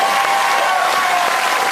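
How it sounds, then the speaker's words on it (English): Studio audience applause on a TV talk show, a brief burst of loud, dense clapping filling the whole moment without a break. "A round of applause for Craig Coombs, ladies and gentlemen."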